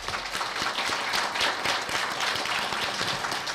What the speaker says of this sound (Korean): 교수님의 신약 개발 연구가 꼭 성공할 수 있도록 다 같이 응원의 박수를 한번